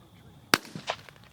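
During an opening-day dove hunt outdoors, one sharp shotgun blast cracks out at mid distance, followed by a fainter second pop and some brief rustling.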